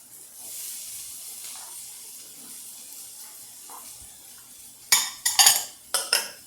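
Ham goes into a hot pan and is stirred, giving a few sharp metallic clinks and scrapes near the end after a stretch of faint background hiss.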